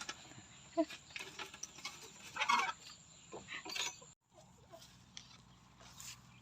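Chickens and turkeys kept under mango trees at a rural learning centre cluck and gobble in scattered bursts, fairly faint, with a few sharper calls and quiet outdoor background between them.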